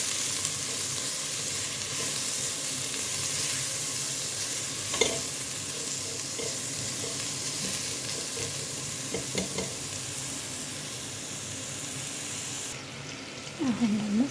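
Garlic and ginger sizzling in hot rendered meat fat, a continuous close frying hiss with a few stirring scrapes and knocks, no speech, for a lahm meat dish.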